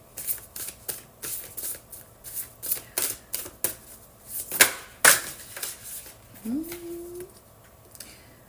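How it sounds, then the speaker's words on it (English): A deck of Guanyin Oracle cards is shuffled in a quick, uneven run of crisp riffling bursts, close and fairly quiet, with a brief voice-like tone near the end. "So let's pull a last card from the Guanyin Oracle."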